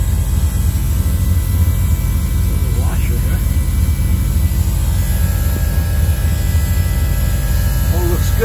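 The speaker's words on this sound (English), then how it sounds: "you can feel this pump running. Pushing fuel." An electric fuel pump runs in a turbo LS fuel system, one of two pumps controlled by the LS engine computer. It makes a steady, loud, continuous drone that holds without a break.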